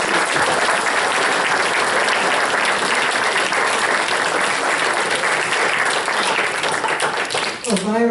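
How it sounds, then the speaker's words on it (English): An audience claps warmly after a talk, a dense, sustained round of applause that fades at the end as a voice begins. "getting some applause"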